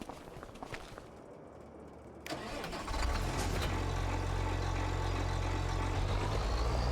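A New Holland tractor in Farming Simulator 25 cranks and fires up after a short quiet stretch, then settles into a loud, steady, deep engine rumble.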